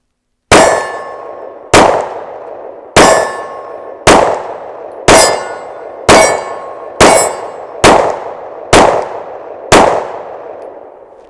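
A SIG P365 pistol fires ten sharp, loud shots at an outdoor range, spaced about a second apart with each crack ringing out briefly before the next.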